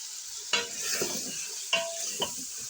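Mutton pieces frying with turmeric in a karahi, a close sizzle broken by three sharp metallic scrapes of a spatula stirring the meat, with no talking.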